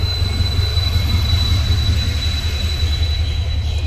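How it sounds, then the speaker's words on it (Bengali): A lone train engine with no carriages rolls through a station at Santragachi, giving a loud, steady low rumble with high squealing tones held throughout. "কোনো ট্রেনের বগি ছাড়াই ট্রেন চলে গেল"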